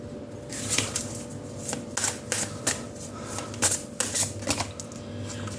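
Tarot cards are shuffled in quick riffling bursts, several crisp flutters close by against a quiet hum.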